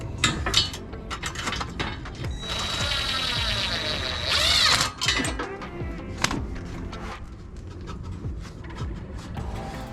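A ratchet tightens a custom car exhaust, a run of quick clicking ratchet strokes with metallic clinks and clanks, close by, sometimes under faint background noise.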